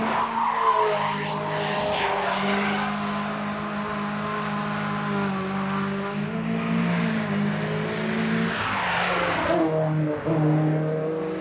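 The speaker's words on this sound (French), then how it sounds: "une voiture de course, faut que ça s'exprime. Et donc c'est d'abord un bruit." A Renault Sport Spider Cup Trophy race car with a 180 hp engine on slick tyres at the Nogaro circuit: a loud, close engine that revs up through rising tones and drops sharply at gear changes, continuously, with no talking.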